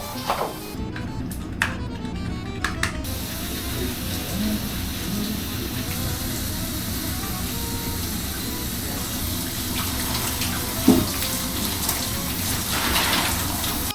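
Water runs steadily from a coin-operated shower at a Japanese campsite, a continuous close hiss of spray with a few brief knocks and clatters early on.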